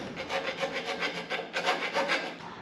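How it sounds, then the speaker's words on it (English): Half-round file rasping a burr off a bushing in a rapid run of short, rhythmic rough strokes, close and clear with no talk. "But that's what they make half-round files for."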